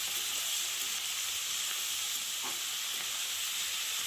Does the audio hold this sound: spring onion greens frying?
yes